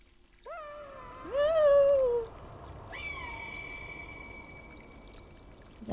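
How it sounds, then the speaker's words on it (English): Cats meowing in the video game Stray, two distinct drawn-out meows, the first loud and rising, the second a bit softer, over a quiet ambient background of trickling water. "is that them meowing for me or?"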